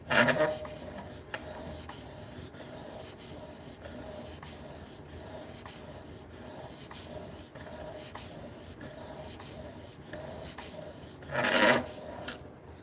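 An old masonry chisel is rubbed back and forth on a 3000 grit sharpening stone from an Amazon Basics kit, making a soft, repeated rasping stroke throughout, with a louder scrape near the start and another near the end.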